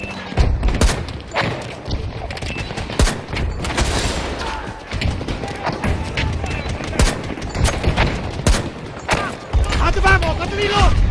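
Heavy gunfire in Battlefield 2042 during a squad Breakthrough battle, with repeated bursts of automatic fire, thuds and booms filling the scene, overlapped by shouted voices throughout.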